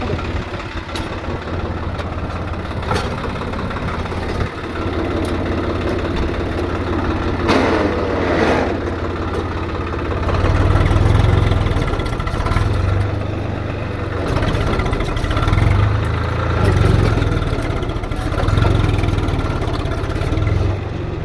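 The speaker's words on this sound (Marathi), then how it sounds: "आता काढत आपलं ट्रॅक्टर पुढे." A tractor engine runs steadily as it is driven out of a spot where it was stuck, with a low rumbling drone that swells louder partway through as it revs under load.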